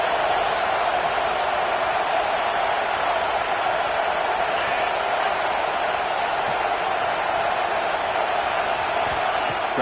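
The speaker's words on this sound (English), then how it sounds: "Listen to the crowd energy here in the early going." A stadium crowd at a Notre Dame versus Michigan football game roars as a broad, steady wash of noise, loud and unbroken throughout with no distinct cheers rising out of it.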